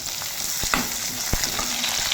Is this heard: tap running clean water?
no